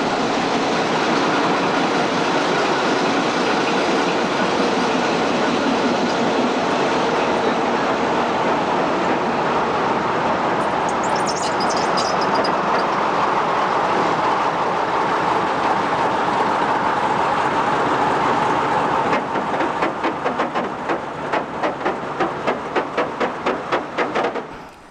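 A MÁV locomotive hauls a freight train over Budapest tram tracks near Déli station, rumbling steadily and close by, with rhythmic wheel clatter growing toward the end.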